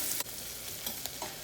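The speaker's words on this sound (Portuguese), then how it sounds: "Vamos deixar o bacon dourar bem." Bacon browning in a pan for farofa at a farofa festival gives a steady close sizzle, with a few sharp spatters and stirring clicks.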